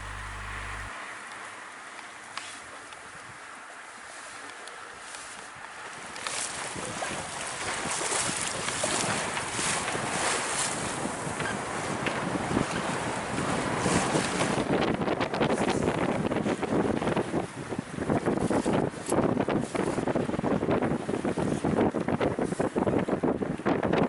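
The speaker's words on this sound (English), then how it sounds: "We're just sailing past Cape Marina now," Sailboat under sail past a marina on a summer cruise, with steady wind rushing over the microphone and water washing along the hull, growing louder and more buffeted after the first few seconds, no talk.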